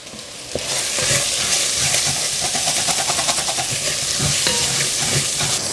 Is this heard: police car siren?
no